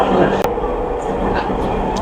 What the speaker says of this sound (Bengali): আমাদের মেট্রোটা ছেড়ে দিল তার যাত্রাপথে